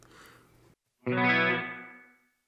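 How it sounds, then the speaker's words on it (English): Clean electric guitar on a Line 6 Helix with spring reverb, a faint bit of playing cut off, then a single loud strummed chord that blooms and fades over about a second with a springy shimmer. "I do not like the sound of these springs."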